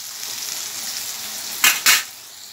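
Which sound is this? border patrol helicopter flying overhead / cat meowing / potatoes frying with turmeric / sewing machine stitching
potatoes frying with turmeric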